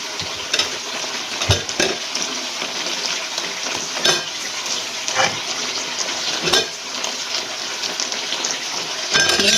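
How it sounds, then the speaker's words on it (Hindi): Half a cup of water goes into a hot chicken karahi, raising a loud, steady sizzle. Sharp clinks of stirring or of the pan cut through it every couple of seconds. "ये पानी भी डाल देंगे आधा कप पानी डाल के हमने इसको कर दिया बंद"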